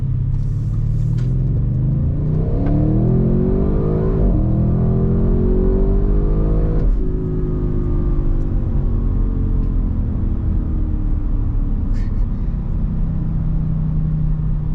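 A 2021 Audi RS6 Avant in sport mode accelerates hard, its engine note rising steadily and loudly through the gears with brief dips at each shift, heard from inside the cabin with no talking.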